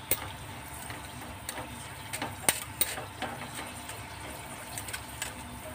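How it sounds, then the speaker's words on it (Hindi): Cashews fry in a pan with a faint, soft sizzle. Scattered light scrapes and clicks of stirring come through, and nobody talks. "काजू डालेंगे। इसे हल्का ब्राउन होने तक हम फ्राई करेंगे।"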